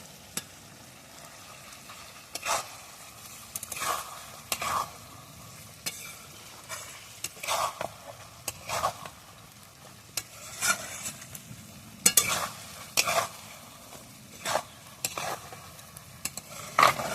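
Pointed gourd frying in a pan with ground cashew paste, a low sizzle broken by regular sharp scrapes and knocks as a spoon stirs, close and without voices.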